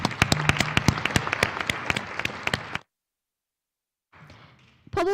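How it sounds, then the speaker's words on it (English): Audience applause at a Pueblo West High School candidate forum, a loud burst of sharp, scattered claps that stops suddenly, followed by silence, then a brief faint patter of clapping before a noise at the end. "A round of applause."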